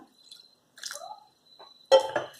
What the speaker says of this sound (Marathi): दोन ते तीनदा पाणी घाला आणि लोणी धुवून ठेवा